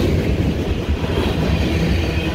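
A freight train of empty tank cars rolls past at close range, giving a steady, loud rumble with continuous wheel clatter.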